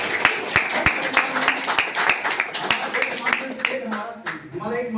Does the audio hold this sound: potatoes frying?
no